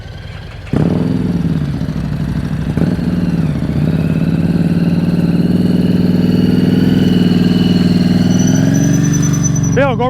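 A motorcycle engine starts up and idles loudly and steadily during slow-speed riding practice, with a squealing note rising at the end; a voice speaks briefly over it.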